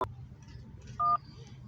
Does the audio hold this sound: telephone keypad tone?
yes